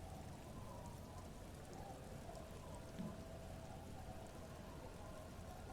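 Soft steady rain ambience in the Disco Elysium game, a faint continuous patter of drops on surfaces with a low background hum, no voices over it.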